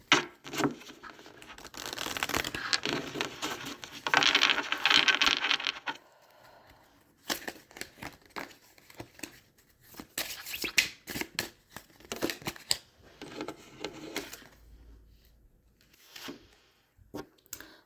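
A deck of tarot-style cards being shuffled by hand at close range, with papery riffles and slides in irregular bursts separated by brief quiet pauses, no voices present.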